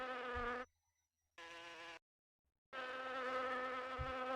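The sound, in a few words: bee buzzing in a video game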